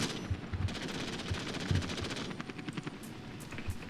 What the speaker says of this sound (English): I hope that that gunfire is being directed at the enemy